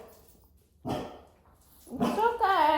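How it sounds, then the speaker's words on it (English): An indoor dog growls at something happening outside, a short rough burst followed by a rising, whining whimper, fairly close to the microphone. "the dog gets up and starts growling at some unknown factor"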